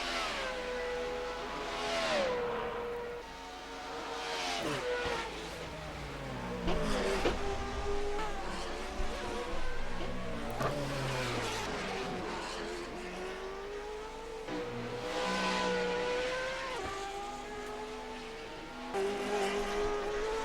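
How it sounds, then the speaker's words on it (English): BMW Judd V8 race cars scream around the Deutschlandring circuit, engines rising and falling through repeated high-pitched revving passes and gear changes, loud and continuous for the whole stretch. "These cars scream, so if they're a bit loud over me"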